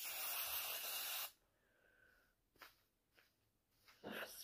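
A loud, steady hairspray aerosol hisses for about a second, then stops, followed by quiet rustling and a few soft scrunching sounds of a wig being scrunched.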